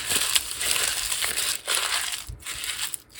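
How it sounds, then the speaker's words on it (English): A paper page rubbed with coconut oil is crumpled by hand close up, giving bursts of crackling and crinkling with brief pauses between squeezes. "and then I'm going to crumple this."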